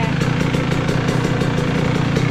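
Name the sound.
motorcycle engine starting and idling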